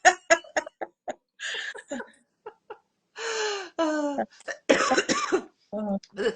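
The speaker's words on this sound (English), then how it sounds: "I always cough when I start off" A woman during a laughter yoga session gives a string of sharp, separate coughs and throat clearings, close and loud, broken by short pauses and some breathy, laugh-like bursts.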